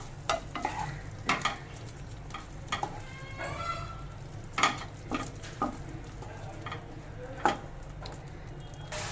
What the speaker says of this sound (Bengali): এবার এখানে নেড়ে চেড়ে মশলাটা একটু কষে নেব।